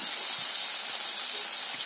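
Freshly added new potatoes and cauliflower sizzle in a hot, spiced pan, a loud steady hiss lasting the whole moment.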